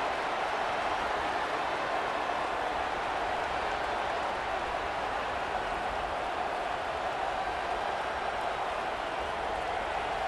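A stadium crowd at a college football game between Missouri and Texas A&M roars steadily for the defense on third down, a dense, loud and unbroken wash of cheering that holds for about ten seconds.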